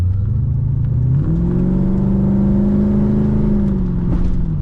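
A Corvette engine idling in gear with a stumble and vibration, a loud steady low drone whose pitch steps up once early on and then holds, with a slightly uneven throb and no talking.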